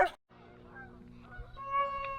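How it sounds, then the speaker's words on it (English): Geese honk in a scattered series at a lake, some way off and fairly faint, over a low steady background hum. "Them geese."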